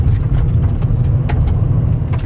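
Car cruising along a mountain road in the Bavarian Alps, a steady low engine and tyre rumble filling the cabin, loud and continuous with no talking.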